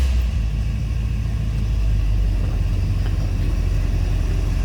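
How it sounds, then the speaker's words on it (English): A 1960 Cadillac Series 62 convertible with a 390 V8 idles steadily after starting, a deep, constant low rumble close by with no one talking. "Take a listen to that 390 V8 underneath the hood."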